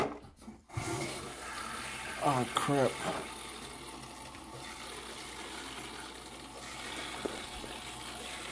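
Water runs from a VoVo bidet toilet seat in a steady, close hiss that lasts almost the whole time, with a brief spoken exclamation near the start.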